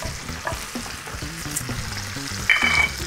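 A dry-aged steak sears in a pan with rosemary and garlic, giving a close, steady sizzle with a few sharp pops and a brief hiss of spatter near the end.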